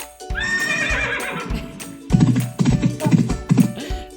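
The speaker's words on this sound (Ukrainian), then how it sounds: "це був коник" A horse whinnies loudly with a shrill, wavering call, followed by a run of snorting, clopping bursts close by.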